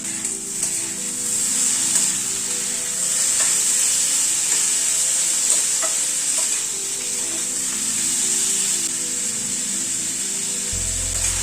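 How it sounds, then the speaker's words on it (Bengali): Chopped tomato being stirred and fried in a pan makes a loud, even sizzle with soft scraping stirs over about eleven seconds, and no one talks. "টমেটোটা দিয়ে একটু নাড়াচাড়া করে নিলাম।"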